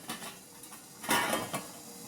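A metal steamer tray set into a pot to steam leaf-wrapped ilayada in a home kitchen: a few light metallic clinks and scrapes, with one louder clatter in the middle, close and without talk.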